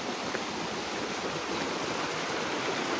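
Steady rushing of a clear forest river, a continuous broadband wash of flowing water heard up close with no voices.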